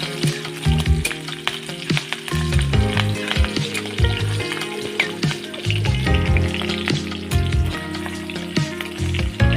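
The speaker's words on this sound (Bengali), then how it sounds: "তেল গরম হয়ে গেছে, তেলের মধ্যে দিয়েছি দুটো তেজপাতা। এবার আমি দিয়ে দিচ্ছি কাঁচা লঙ্কা ছিঁড়ানো।" Two bay leaves and torn green chilies fry in hot oil for a Bengali potol bhaja, giving a loud, crackling sizzle with frequent sharp pops and spatters, close up and continuous, without voices.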